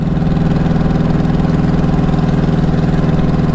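A motorcycle engine in second gear, with sticking throttle cables or carburettors, holds a steady, even drone at about 2,400 RPM and 24 mph, throbbing continuously and fairly loud throughout.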